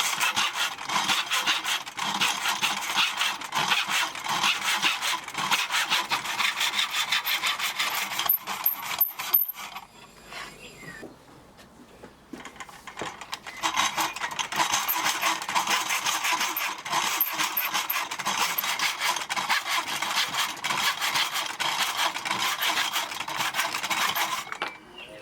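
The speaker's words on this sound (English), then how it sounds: "The first step is to cut a broomstick into 6 parts." A wooden broomstick is hand-sawn into pieces, with loud, steady back-and-forth rasping strokes up close, a brief pause partway through, then continuous sawing again.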